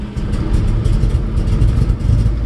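A 1969 Camaro with a Holley fuel setup and 3-inch Magnaflow exhaust with an X-pipe rumbles loudly close by, a deep throaty idle with slight surges throughout.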